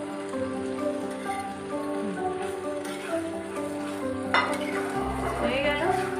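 Small puti fish dropped into a sizzling mustard-poppy masala in a frying pan, a steady hiss that flares louder partway through, with a constant low hum running underneath.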